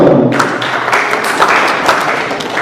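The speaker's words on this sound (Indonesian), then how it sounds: "Tepuk tangan untuk Bapak David Soto" Applause breaks out at a press conference for a film's producers: a dense, loud burst of many clapping hands, sustained throughout.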